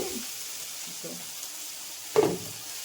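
Two medium tomatoes fry in a pan for chicken curry, giving a faint, steady sizzle with a few soft movements and one sharp utensil clatter near the end.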